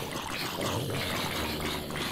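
Flowing water in Minecraft, a steady trickling, pouring stream running continuously at moderate loudness with no talk over it.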